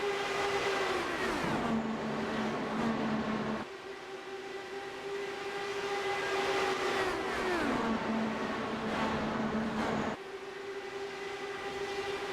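IndyCar DW12 race cars in a racing game scream down the backstretch at Indianapolis, a loud sustained engine whine that drops in pitch twice as cars pass close by, with no talk.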